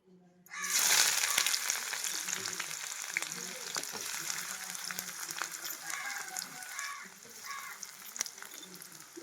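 Onions and green chillies frying in hot oil for a curry, a steady close sizzle that starts suddenly and continues evenly at low-to-moderate level, with faint kitchen clinks.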